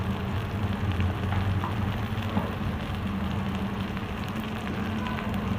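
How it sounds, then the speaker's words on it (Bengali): Nigella seeds dropped into hot oil as tempering after frying okra, producing a soft, continuous crackling sizzle with faint pops, close and fairly quiet, over a low steady background hum. "এতে একটু ফোড়নে কালো জিরে দিলাম"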